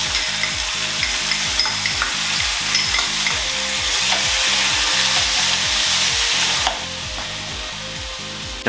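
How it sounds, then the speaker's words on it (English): Garlic and ginger paste sizzles steadily in a hot pan for a homemade restaurant-style curry, with a rhythmic low stirring or scraping pulse running under the continuous frying hiss. "Next in goes that fantastic garlic and ginger paste that we made earlier."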